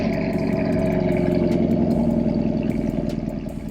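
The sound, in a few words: 2021 Camaro SS cold start with Texas Speed headers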